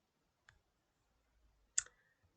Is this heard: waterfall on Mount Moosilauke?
no